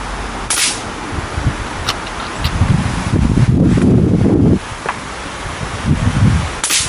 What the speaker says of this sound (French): Il y a encore du vent aujourd'hui